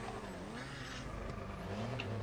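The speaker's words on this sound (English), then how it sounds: "Oh, race car." A race car engine in FiveM drones at a distance, its tone rising and falling with gear shifts under a faint ambient background.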